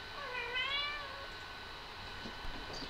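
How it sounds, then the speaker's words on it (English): A seven- to eight-month-old house cat gives one clear, rising and falling meow early on, followed by quiet room tone. "Yeah, that's my cat."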